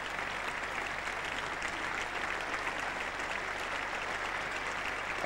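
A cricket crowd at The Oval applauds a century partnership during a 1981 Test against Australia, a steady, even wash of clapping heard from a distance with no voices over it.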